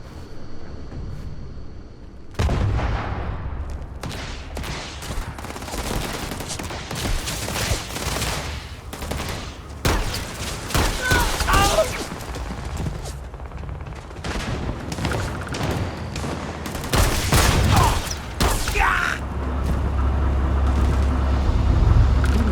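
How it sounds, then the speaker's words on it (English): Combat in the video game Starfield erupts with a grenade blast amid bursts of rapid gunfire and booming explosions, loud and chaotic over a rumbling background. "Grenade!"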